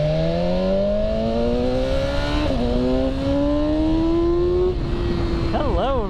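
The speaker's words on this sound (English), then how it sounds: "This bike cannot do a burnout." A BMW S1000XR motorcycle engine revs hard during a burnout attempt, its pitch climbing in steady sweeps with a brief stumble, then wavering revs near the end, loud and close.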